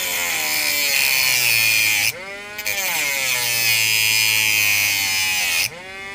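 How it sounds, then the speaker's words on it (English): A cordless Dremel with a cutting wheel cuts into a die-cast Hot Wheels toy car, a loud high-pitched grinding whine in two long passes, briefly stopping and restarting between them. "we're going to take a cutting wheel on the Dremel, and we're going to cut this back piece off"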